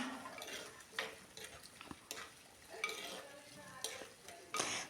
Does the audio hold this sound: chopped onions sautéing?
yes